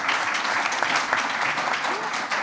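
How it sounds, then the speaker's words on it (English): An audience applauds panellists at a community energy congress, sustained clapping from a room full of people with a voice speaking over it. "if you could give them a round of applause"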